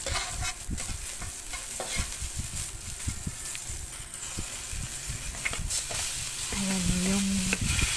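White onion and garlic fry in a pan for a simple home-cooked dish, with a steady sizzle broken by repeated stirring scrapes and clicks, and a brief tonal hum near the end.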